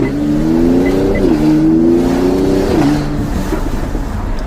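A 2021 AMG GLC 43 fitted with BTS catted downpipes revs up loudly and steadily, its engine note rising, dipping and climbing again before settling back, recorded up close by a camera microphone, with no talking.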